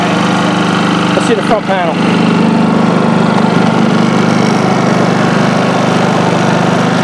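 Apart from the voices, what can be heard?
Westinghouse iGen4500 inverter generator engine running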